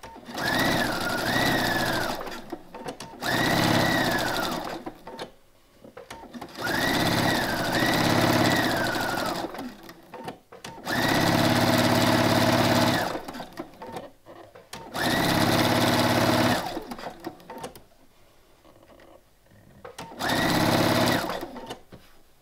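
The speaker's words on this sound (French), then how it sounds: "on va coudre en partant du poignet comme ça" Sewing machine stitching a draped top, running in repeated bursts of fast whirring, each a few seconds long, with short pauses between, close and clear with no talk.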